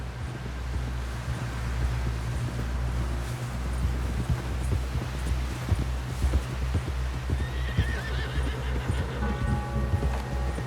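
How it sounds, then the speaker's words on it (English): Video game horse's hooves clip-clop in a steady rhythm over wind noise, with whinnying rising near the end, in Red Dead Redemption 2. "Someone help John down off this horse."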